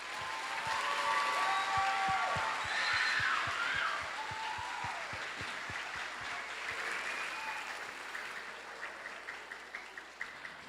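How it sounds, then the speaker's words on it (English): A crowd at an 8th grade graduation ceremony bursts into sustained applause, with a few whistles or cheers on top. The clapping thins toward the end into scattered individual claps. "Let's give them all a quick round of applause."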